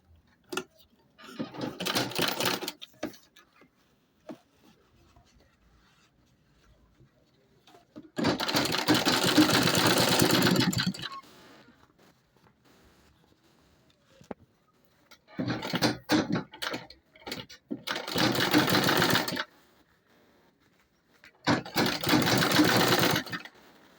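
A sewing machine top-stitches an Ankara cloth tote bag in several separate loud bursts of rapid stitching, with quiet gaps and small clicks of fabric handling between runs.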